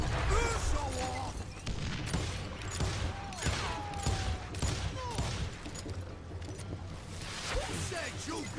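Gunfire in the video game Call of Juarez: Gunslinger, repeated shots and bursts over a busy mix of game effects and music, with voices talking throughout.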